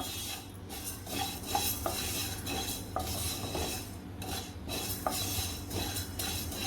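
Whole pickle spices such as fenugreek seeds dry roasting in a pan for mango pickle, with a steady scratchy rustle and repeated scraping and clinks of a spoon against the metal, close and continuous.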